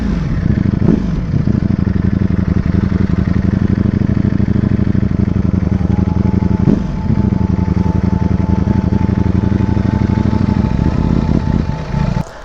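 A Ducati Panigale V4S motorcycle accelerates hard through its gears, its loud, steady engine roar broken by quick dips at the shifts, heard close up and continuously.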